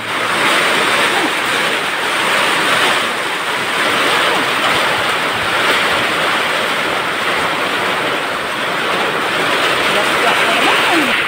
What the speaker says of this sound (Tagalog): Lakas na naman ang ulan sa kahangin.